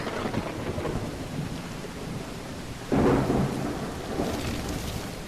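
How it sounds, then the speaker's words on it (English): Video game sound: steady rain pours down while a deep rumble of thunder swells midway, louder for a moment before settling back under the downpour. "It's raining cats and dogs here."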